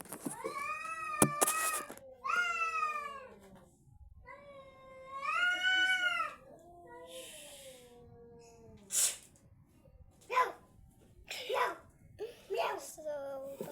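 Cat meowing in a series of loud, drawn-out wavering meows and shorter cries up close, with brief chatter and breathy sounds in the gaps.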